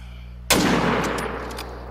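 A single sharp rifle shot fired at a deer in theHunter: Call of the Wild, loud and close, with a long rolling echo trailing off into the outdoor ambience.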